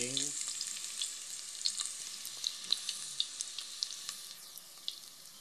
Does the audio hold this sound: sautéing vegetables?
yes